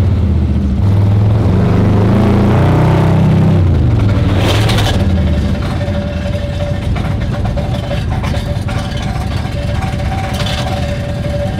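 A carbureted 427 R-code car engine running while driving. It growls and revs loudly for the first few seconds, then settles into a rougher rumble with a faint whine and scattered rattles.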